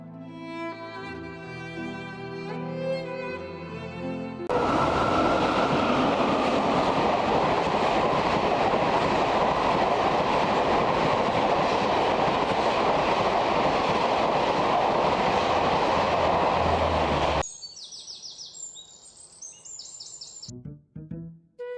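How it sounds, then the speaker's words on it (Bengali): Cartoon-style train sound effect, a loud sustained rumbling run of wheels on rails lasting about thirteen seconds, framed by short musical jingles before and after. "চল রে জোরদার কুটু, ট্রেনে চল।"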